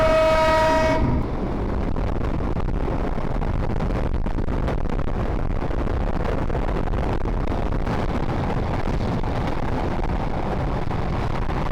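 A train passes through an old railway station in Kushtia without stopping, opening with a loud horn blast followed by a steady, close rumble and rattling of carriages that continues throughout.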